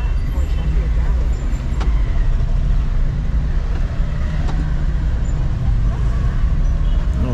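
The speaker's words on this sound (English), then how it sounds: "Oh, so we've got all types of vehicles." Mixed street traffic rumbles through Kathmandu, Nepal, with cars, buses and bikes passing close by; a continuous low engine drone is punctuated by a few sharp clicks and a hiss, loud and busy throughout.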